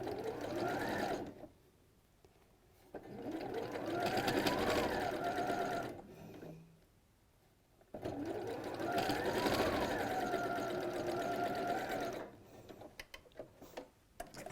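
Sewing machine stitching a wildflower meadow quilt runs in two steady bursts of rapid mechanical whirring and ticking, with quiet pauses between them and soft light ticks near the end.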